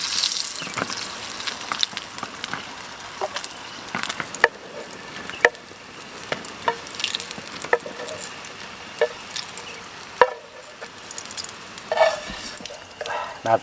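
Baung river fish frying in hot oil, a loud continuous sizzle close by with repeated clicks and taps of a utensil stirring and turning the fish.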